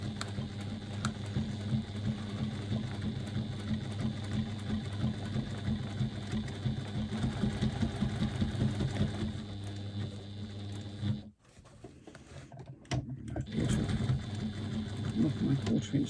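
A sewing machine stitches a seam on a press bag, running in a steady rapid whir from close by, pausing briefly for a short back-and-forth before resuming, with someone talking over it.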